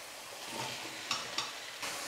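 Tomatoes sautéing in oil in a pan, a soft, quiet sizzle with a few sharp utensil clicks against the pan as they are stirred, close and without speech.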